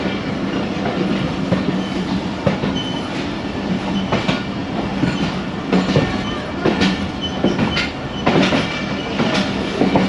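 Jaffar Express passenger train running on a single-line track between Lahore and R, with steady loud wheel rumble and rhythmic clickety-clack over rail joints, plus occasional sharp wheel and coupling knocks, heard from on board.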